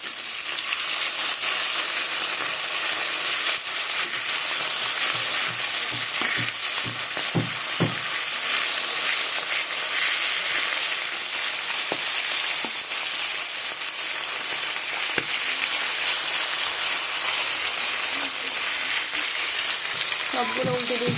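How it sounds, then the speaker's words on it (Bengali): Pieces of catla fish frying in mustard oil make a steady, dense sizzle and crackle that runs throughout, with occasional clinks and stirring sounds and no talk. "এবার মাছগুলো ভেজে নেব।"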